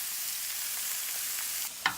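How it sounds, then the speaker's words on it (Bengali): Mushrooms fry in a pan over medium heat with a steady, close sizzle, and a brief utensil clink comes near the end. "এবার মাশরুমগুলো আমি অল্প করে একটু ভেজে নেব।"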